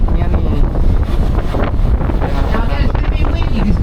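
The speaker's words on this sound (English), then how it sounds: "it's going to be windy because the curve of the river" Strong, steady wind buffets the microphone on an open-top tour vehicle near a river bend in New Orleans, a continuous loud roar with muffled background voices mixed in.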